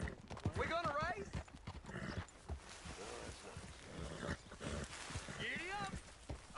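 Horse hooves clip-clop at a gallop in the Western video game Red Dead Redemption, with a rapid rhythmic beat running throughout, a couple of whinnies, and game voices talking over the hoofbeats.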